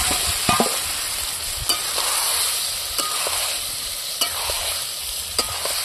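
Chicken leg pieces fry in spiced yogurt masala in a pan, a loud steady sizzle close by with periodic scraping clicks from stirring and no talk.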